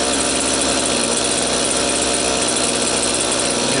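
A gas-powered T-Rex 600 model helicopter engine driving an IGEN generator runs at a steady, loud, buzzing drone, close up and unbroken, with no voices.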